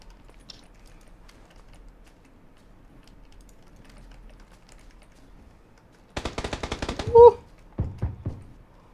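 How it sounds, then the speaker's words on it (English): Gunfire in the game PUBG: after a quiet stretch of faint room noise, a quick burst of about ten rapid shots rings out, followed by a couple of shorter bursts, moderately loud and distant-sounding. "they're not shooting at me, they're shooting"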